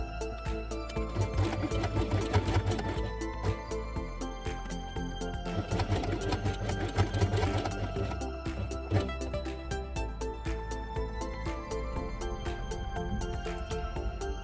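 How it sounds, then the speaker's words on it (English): Sewing machine stitching through felt for a quiet book page, a steady continuous mechanical whir with rapid needle ticking running the whole time, close up and with no voices. "sew only the bottom edge from here to this point, just like before"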